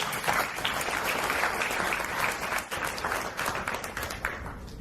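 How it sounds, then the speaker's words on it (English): An audience at a college graduation ceremony applauds a visiting ambassador, with dense, sustained clapping from a large crowd that continues at an even level throughout. "because you can clap at that and say"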